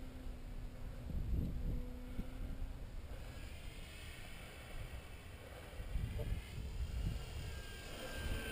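RC Super Cub model airplane with a brushless motor flying at night, a faint distant whine passing over a quiet outdoor background with occasional low thumps.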